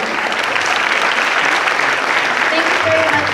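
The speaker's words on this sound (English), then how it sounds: "let's give another round of applause to Mr." Sustained applause from a lecture audience thanking an architecture speaker, dense steady clapping throughout at even loudness, with no pauses.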